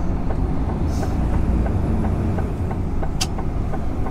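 A car cruising on the A14 with a window partly down gives a loud, constant rumble of road and wind noise, steady and unbroken, with no talking.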